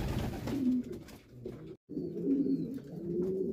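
Meat pigeons in a breeding coop give soft, low cooing calls in repeated rounds, close and fairly loud, broken by a brief silence near the middle, with no voices.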